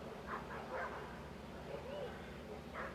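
Several dogs bark and yip outdoors in short bursts at moderate distance, with steady background noise throughout.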